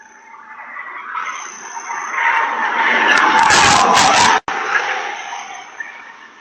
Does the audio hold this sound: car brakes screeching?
yes